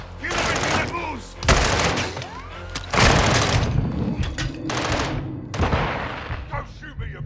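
Video game gunfire in Call of Duty: Modern Warfare 2 during a prison break, loud bursts of automatic and single shots with booming impacts, mixed with shouted voices.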